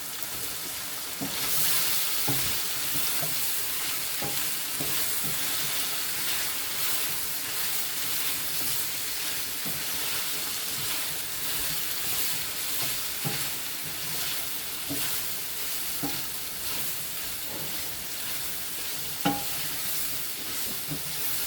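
Mushrooms fry in a pan with a continuous crackling sizzle, punctuated by occasional light clicks of stirring, steady and close throughout.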